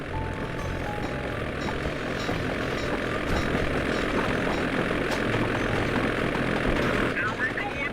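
The steady droning engine of the ice plane in the video game Sly 2 runs throughout, a continuous loud hum with faint game clatter and a voice talking over it.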